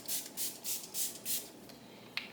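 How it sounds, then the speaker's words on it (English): A spray bottle of hypochlorous acid spray gives five quick bursts of misting hiss onto a pillow in a steady rhythm, close by, followed by a short click. "I spray this element spray on my pillow"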